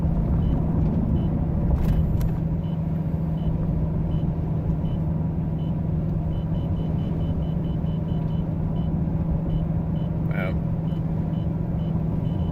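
A radar detector beeping inside a car driving through a winter storm, short faint repeated chirps over a steady loud road rumble and engine drone, with a sharper burst of beeps near the end.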